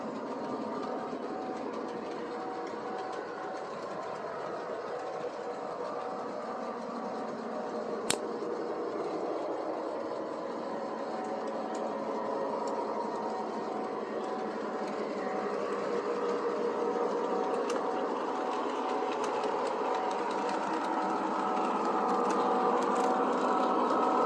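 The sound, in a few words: model train running on the track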